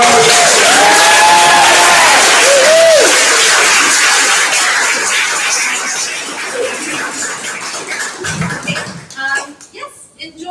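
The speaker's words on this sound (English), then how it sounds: "Can we all give them a big round of applause?" Crowd at the 2021 Manchester Anthology launch event bursts into loud cheering, whoops and applause, dense and close, then fades over several seconds to scattered claps as talk resumes.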